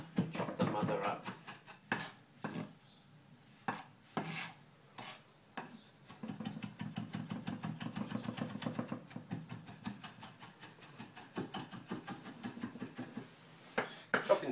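Knife chopping food on a cutting board sprinkled with salt, a rapid run of sharp taps and scraping strokes in irregular bursts, close by, with a few pauses between runs.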